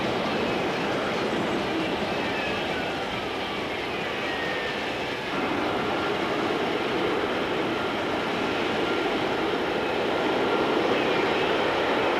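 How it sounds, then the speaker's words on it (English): A Hawker Siddeley Harrier jet hovers and transitions to conventional flight, producing a continuous loud, broad jet-engine roar that holds steady throughout, with a slight shift in tone partway through. "the aircraft transitioned from the hover to conventional flight and back again"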